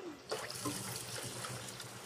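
Water is poured into a mixture of vinegar, salt and sugar in a home kitchen while making lava garlic. It gives a short, close splashing trickle over about two seconds, with no voices.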